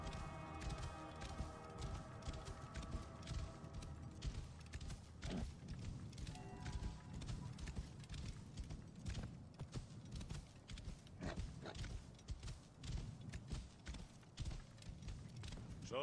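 A horse ridden at pace in Assassin's Creed Origins, rapid rhythmic hoof clip-clops running steadily over the game's ambient music, with no talking.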